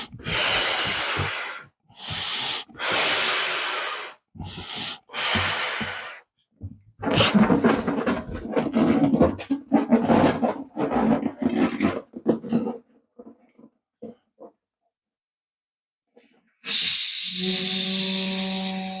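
Air rushes in loud, breathy bursts from the nozzle of a balloon-powered CD hovercraft, hissing out in several separate spurts before fading to quiet, then ending in a strong, steady blowing tone with a reedy, whistling edge.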